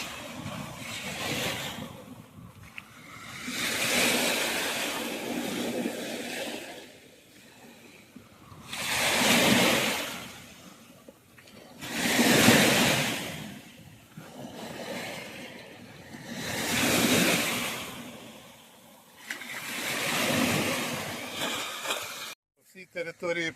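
Ocean waves roll onto Golden Beach in Miami, rising and falling in broad washing swells about every four seconds, fairly loud and steady.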